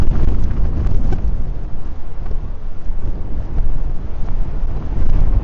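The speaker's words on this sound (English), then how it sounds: "you can probably hear the wind whistling around" Loud, steady wind buffeting the microphone on a bicycle ride between Brooklyn and Raumati, a low rumbling roar with constant gusty fluctuations throughout and no voices.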